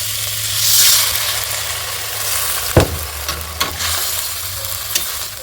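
Water poured into a pan of frying onion, chili and garlic, a loud steady sizzle and hiss with a sharp burst and a few clanks of stirring, no talk.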